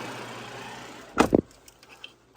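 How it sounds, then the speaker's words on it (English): A garbage truck idles on a street in Kaysersberg, France, with a low, steady engine drone and a short, sharp metallic clank near the middle before the noise fades to a quieter hum. "They have a garbage truck right there."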